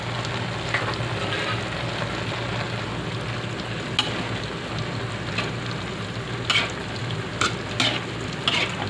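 Pancit miki bihon noodles stir-fry in a hot pan, giving a continuous close sizzle broken by occasional sharp scrapes and clacks of a stirring utensil, with no talking.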